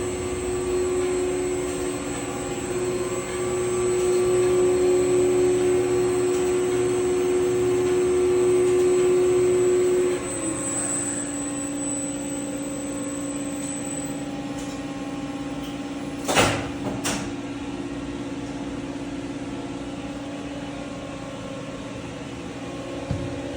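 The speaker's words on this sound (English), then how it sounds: "This is an overhead traction machine. You can hear the other elevator running." ThyssenKrupp overhead traction elevator machine in a condominium machine room, a steady motor hum and whine with a high tone that shifts midway, a couple of brief clunks near the end.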